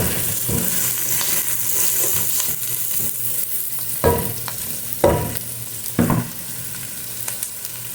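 Chopped onion and chili hiss and sizzle in oil in a pan for sardines with patola and misua, a steady fry broken by several sharp stirring scrapes near the end.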